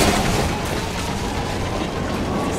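A loud, sustained rumbling blast from an explosion in the co-op shooter Resident Evil: Operation Raccoon City, dense broadband roar filling the whole moment with no talk.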